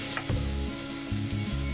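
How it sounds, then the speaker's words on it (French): Onions and garlic frying in a pan, stirred with a wooden spoon to keep them from sticking; a steady close sizzle is broken by repeated low scraping strokes of the spoon, with no voices. "On va laisser cuire nos oignons et l'ail à peu près 5 minutes en mélangeant de temps en temps avec notre cuillère en bois"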